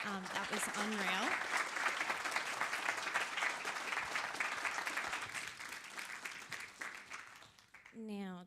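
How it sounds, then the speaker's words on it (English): Applause from a conference audience after a talk, a steady, full wash of clapping that holds for several seconds before fading, with a voice briefly audible at the start and end. "a big round of applause"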